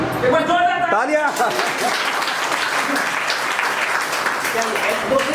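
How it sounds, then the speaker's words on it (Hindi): Loud, sustained crowd applause fills the clip, with a voice speaking briefly at the start before the clapping takes over. "एक बार जोरदार तालियां।"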